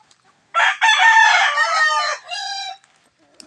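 A one-eyed fighting rooster, a three-time winner, lets out a single loud, close crow lasting about two seconds, with a short break early on and a lower trailing segment at the end.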